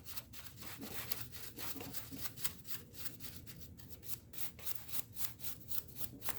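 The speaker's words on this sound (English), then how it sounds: "we get my little brush here and we'll just start scrubbing it down." A small brush scrubs a Suzuki motorcycle stator cover in fast, even back-and-forth strokes, a steady close bristly rubbing at low volume with no talking.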